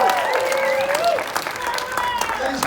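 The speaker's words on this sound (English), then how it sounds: "give yourselves a great big round of applause for being here tonight" A theatre audience applauds steadily at a musical premiere, with scattered cheers and whoops rising over the dense clapping.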